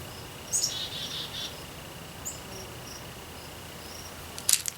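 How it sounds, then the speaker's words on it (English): A chickadee sings from up in a tree, giving a few faint, high, brief chirps early on and again near the end over a quiet outdoor background. "You can do it when you hear a bird singing, that chickadee up there in the tree."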